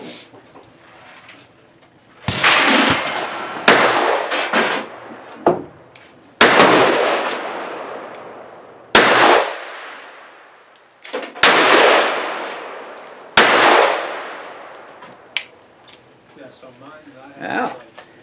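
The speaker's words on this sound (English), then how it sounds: "it actually shoots really smooth for a 38 stub nose" Heritage Roscoe .38 Special snub-nose revolver with a 3-inch barrel fired outdoors: six loud, sharp shots spaced a couple of seconds apart, each with a ringing tail.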